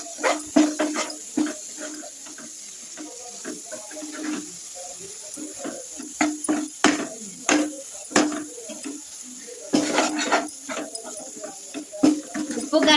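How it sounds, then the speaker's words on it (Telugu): Spices being stirred together in a pan for a capsicum curry, a series of short scraping and clinking strokes with a faint sizzle underneath, close and moderately loud. "మిక్స్ చేసుకుందామండి ఇదంతా."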